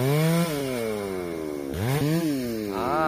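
A chainsaw engine whines steadily at close range, its pitch dipping and climbing as the blade bites into a rubber tree and revs back up.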